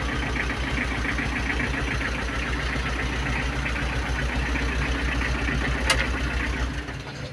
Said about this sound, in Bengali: ইঞ্জিনের সাউন্ড দেখেন, একদম সুন্দর সাউন্ড।